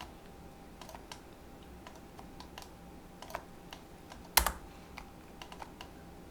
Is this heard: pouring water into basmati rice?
no